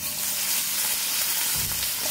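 Eggplant pieces fry in oil with mustard seeds and turmeric, a dense, loud, close sizzle running throughout with a brief burst of louder spitting near the end, no talking.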